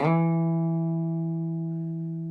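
A single clean electric guitar note without a compressor rings out and slowly fades, decaying steadily without sustain, heard alone.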